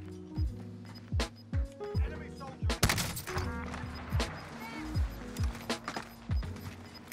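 Repeated sharp gunshots from a video game, a dozen or so bursts at irregular intervals, loud and close, with faint game sounds between.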